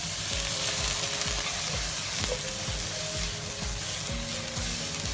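Lotus root shoots stir-fried in a wok with salt and white vinegar, a dense steady sizzle under rapid, rhythmic tossing and scraping close up.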